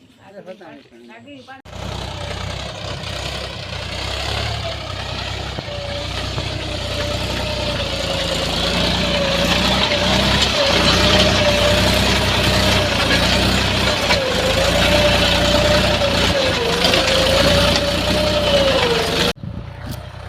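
A diesel tractor engine runs steadily near the listener in a rural village setting, a continuous mid-pitched drone with a faint wavering whine that holds for about twenty seconds before cutting off abruptly.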